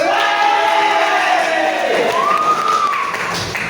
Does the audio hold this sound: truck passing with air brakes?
no